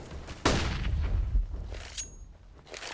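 Counter-Strike gunfire on the Dust2 map during an esports match, a sharp close shot bursting out then decaying into rumbling echoes and a few fainter follow-up cracks over low background game ambience.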